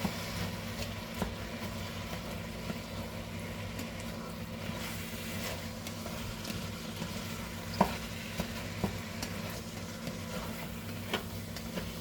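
Ground meat browns in a pan for goulash, giving a faint, steady sizzle with occasional soft clicks and scrapes of stirring, fairly distant and low.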